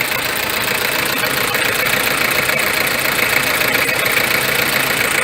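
A 1995 Toyota Hiace with a 1KZ-TE diesel engine, prone to hard starting, runs steadily at idle with a dense, continuous clatter and rumble, close and loud, with no voices over it.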